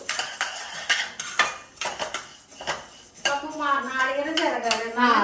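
Washed horse gram rattles and scrapes dry in a pan as it roasts and a metal spoon stirs, with clinks against the pan and a voice speaking over the last part.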